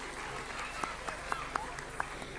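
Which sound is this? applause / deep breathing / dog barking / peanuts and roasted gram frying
applause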